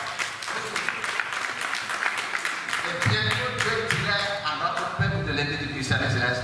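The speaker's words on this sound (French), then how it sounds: "je vous prie de l'applaudir fort fort" A church congregation at La Cité de Salomon applauds in a dense, steady burst of many hands clapping together, with voices rising over the clapping in the second half.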